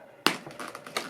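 Scissors snipping plastic ties off a doll's packaging, one sharp close snip followed by a few lighter clicks and rustles of plastic.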